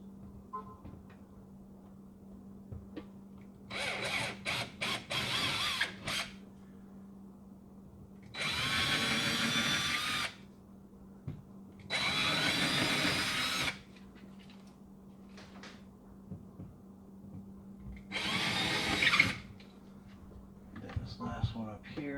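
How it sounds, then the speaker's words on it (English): A power drill bores holes in a wall to mount a power tool organizer and drill holder, sounding as four separate whirring bursts of a second or two each, with a low steady hum and quiet gaps between them. "Let's drill the holes."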